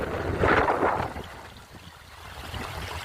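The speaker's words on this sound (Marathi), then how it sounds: "बघा किती छान पाणी चालू आहे. खळखळ खळखळ आवाज येते" Stream water rushes and gurgles steadily over rocks outdoors, a dense continuous flow with some wind noise, swelling briefly louder near the start.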